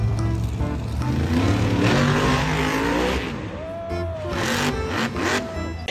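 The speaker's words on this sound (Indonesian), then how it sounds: "Brum brum brum brum brum brum brum. Ini mobil balap." A race car engine revs loudly and continuously, its pitch rising and falling in repeated swells.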